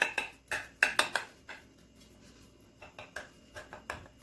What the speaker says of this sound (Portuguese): E eu vou fazer uns furos no bolo. Pode fazer bastante furo para poder entrar mesmo o caldinho.